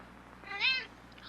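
A single short cat meow, close and clear, rising and falling in under half a second over a quiet room hum.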